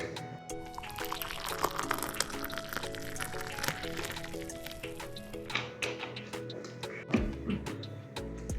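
Water being poured into a glass and then drunk, with liquid trickling, glass clinks and gulps close up in a quiet indoor setting.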